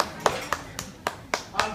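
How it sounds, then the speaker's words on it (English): Sparse, evenly spaced hand claps ring out at a gold pour demonstration, about six distinct slaps in under two seconds, fairly quiet and close. "Give her a round of applause."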